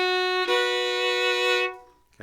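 A fiddle sounds two long sustained bowed notes from "Crook Brothers Breakdown", close and clear, then fades into silence.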